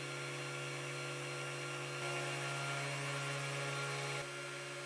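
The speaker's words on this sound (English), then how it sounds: "the first hole is drilled with a too high speed" A CNC machine spindle drills a hole in a printed circuit board, running too fast. It gives a steady, high-pitched tonal whine over a constant hum, with a slight change in pitch partway through as the bit cuts.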